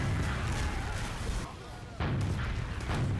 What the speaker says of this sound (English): We just spam rockets here, hopefully get some.